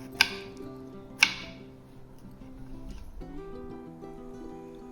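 Two sharp knife chops on a board, a second apart, cutting cauliflower into small pieces, over quiet background music, then only the music continues.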